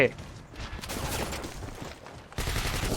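Rapid gunfire bursts in the shooter video game BlackFire, loud and close, with a dense stretch of shots, a brief lull, then another sustained volley.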